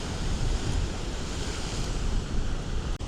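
Ocean surf crashes steadily against the rocky shoreline at Sunset Cliffs in San Diego, a loud, continuous roar of breaking waves with wind buffeting the microphone throughout.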